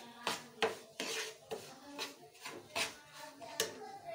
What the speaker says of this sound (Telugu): 2 కప్పుల బొంబాయి రవ్వ వేసుకొని వేయించుకుందాం